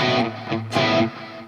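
An overdriven electric guitar plays a couple of short chords, each followed by a repeating delay echo that trails off after the notes.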